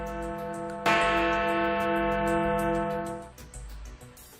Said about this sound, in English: its famous Big Ben clock, which rings its bells every hour